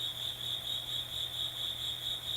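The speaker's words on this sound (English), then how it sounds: "the cricket is quite loud in the microphone" Close, loud cricket chirping runs as an even, continuous trill with no pauses, alone over a faint low hum in a quiet outdoor setting.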